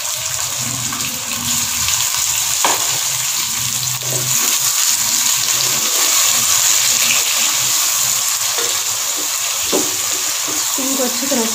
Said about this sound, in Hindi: चार से 5 मिनट के लिए हम चिकन को फ्राई करेंगे।